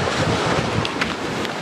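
Ocean surf and wind along the rugged west coast of Vancouver Island near the Juan de Fuca Trail, a steady broadband wash with gusty buffeting on the microphone and no voices.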